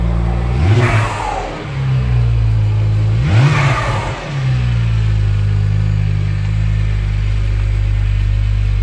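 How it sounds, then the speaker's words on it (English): A BMW 1M E82 on a test drive revs hard twice, each rise climbing and falling, then settles into a loud, steady engine drone close by; no speech. "Let's go for a test drive."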